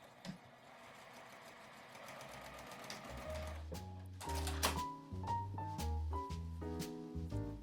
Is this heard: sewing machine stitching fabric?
yes